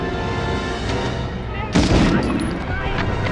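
A loud burst of gunfire in Medal of Honor (1999) erupts midway, sharp cracks over a dense, steady backdrop of music and effects, with a voice talking underneath.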